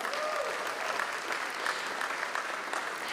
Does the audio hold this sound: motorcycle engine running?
no